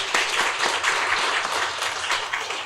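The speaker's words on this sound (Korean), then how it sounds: "하나님께 영광의 박수를 보내겠습니다" A church congregation claps loudly and continuously in a Korean worship service, a dense steady wash of applause with no speech.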